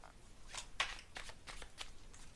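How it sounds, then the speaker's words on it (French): A tarot card is turned over during a reading, giving a few soft, close paper flicks and slides in quick succession, faint in a quiet room without talk. "C'est la carte qui s'est retournée là."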